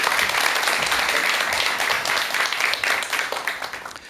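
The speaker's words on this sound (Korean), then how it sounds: "자, 그럼 박사님의 강의 박수로 정해 듣겠습니다" Dense audience applause fills the lecture hall, steady and loud throughout before thinning slightly near the end, greeting a psychiatrist's lecture on Buddhist mind therapy.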